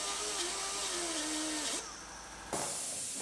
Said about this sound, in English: Just one more spot weld, so we'll grind that out.